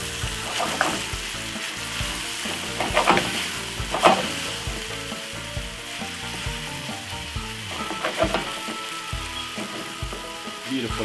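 Tuna pasta sauce with ketchup sizzling in a pan while being stirred, a steady hiss punctuated by several louder scraping strokes of a spoon, close and continuous without talk.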